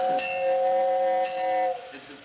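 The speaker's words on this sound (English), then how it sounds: "It's a poor locomotive lost in fog." A train locomotive sound, heard as a steady, horn-like harmonic tone. It holds for under two seconds with a couple of clicks, then fades quickly.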